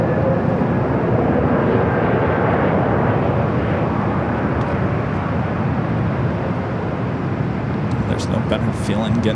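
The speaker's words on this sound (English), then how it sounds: "Some interesting landings going on here on the north side" A jet airliner landing on the north side runways at Los Angeles International Airport, heard as a loud, continuous broadband roar that holds steady throughout, with faint voices toward the end.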